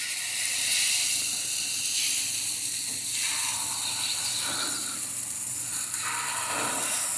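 Pancakes sizzle on an oiled Blackstone-style griddle converted from a Ninja FlexFlame, held at 450 degrees, giving a steady, close hiss that stays even throughout with no talking.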